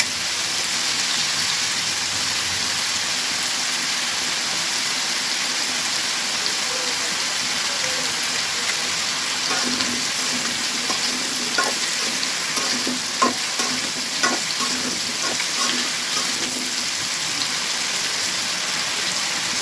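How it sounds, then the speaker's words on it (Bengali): Cauliflower fries in hot oil for a winter vegetable fish curry, a loud, dense, continuous sizzle with occasional stirring scrapes and pops. "কপিটা খুব সুন্দর করে ভেজে নেব।"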